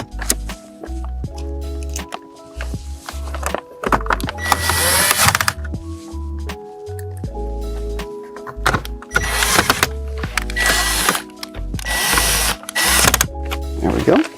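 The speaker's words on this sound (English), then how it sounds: "we're going to put these screws back into place here" Screws are driven back into trim panels of a Lexus IS 200t F during a CarPlay and Android Auto install, with repeated close bursts of a power driver whirring and ratcheting between pauses and quiet handling noises.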